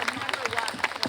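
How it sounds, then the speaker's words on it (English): Audience applause at an evening Vietnamese cultural and arts performance, a steady patter of many hands clapping, fairly close and continuous through the brief moment. "give a round of applause"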